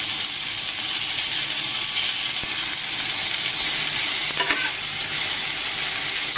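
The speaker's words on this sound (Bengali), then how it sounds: "প্রথমে আমি পেঁয়াজগুলো ভেজে নেব।" Onions sizzle loudly in a hot pan, a steady bright frying hiss held close throughout with a few faint clinks of stirring.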